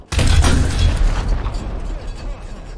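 A single heavy tank cannon shot from the RU 251 in War Thunder lands as a sharp, loud boom that trails off into a rumbling decay with mechanical noise underneath.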